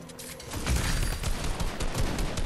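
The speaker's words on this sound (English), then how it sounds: "I tagged him with charge shotgun" Charge shotgun blasts in a Fortnite arena trio match: a dense, booming burst of gunfire that fills the short moment, loud and close, with no talking.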